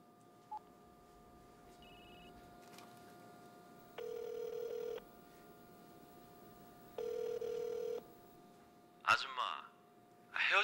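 In a home setting, a telephone gives a short beep, then rings in two bursts of about one second each with a pause between. A voice breaks in briefly at the end.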